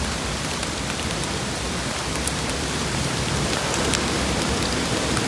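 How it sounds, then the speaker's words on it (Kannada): Heavy rain pours down steadily near a waterfall, a dense, loud, even wash of hiss and patter that continues unbroken, with no voices. "ಎಂಥ ಮಳೆ ಅಂತೀರ, ಫಾಲ್ಸ್ ಅಂತೂ ಆಸಮ್ ಇದೆ"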